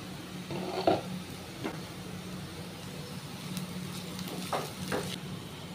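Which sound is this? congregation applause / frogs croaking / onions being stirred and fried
onions being stirred and fried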